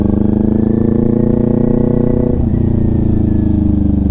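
A motorcycle riding slowly on a wooded trail drops into first gear: a loud, steady, close engine drone with a brief clunk and shift in pitch midway, then a continued low rumble.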